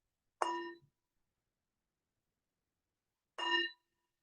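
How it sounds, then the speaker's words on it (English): A meditation bell rings twice, about three seconds apart, each a clear bright tone decaying quickly into silence during a guided meditation. "So the bell is inviting us to bring the awareness back to the surface"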